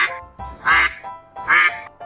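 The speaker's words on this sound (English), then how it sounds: "I see a yellow duck looking at me." A cartoon duck sound effect quacks three times in loud, evenly spaced bursts, with short gaps between them and no talking over it, set within a children's picture-book read-aloud.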